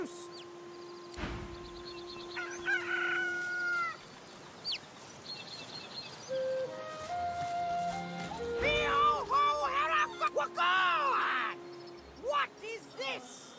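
A magic cockerel in the video game Divinity: Original Sin 2 gives a rising, warbling crow-like call in the second half, loud and close over game music and ambient sound, with a voice heard speaking earlier.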